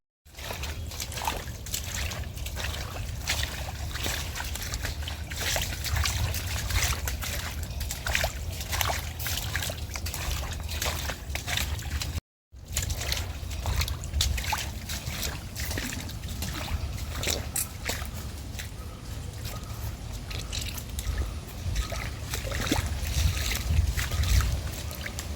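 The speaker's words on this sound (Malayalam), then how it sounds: "ചെറിയൊരു കൈവഴി ഒഴുകുന്ന പോലെയാണ് ഇതിലേക്കൂടെ വെള്ളം ഒഴുകുന്നത്" Water runs steadily through a small roadside canal outside a house, a continuous close trickling wash with a brief break midway and no talking.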